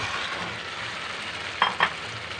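A fish head fries in spiced masala in a pan, giving a steady close sizzle with two quick clinks of a utensil against the pan near the end.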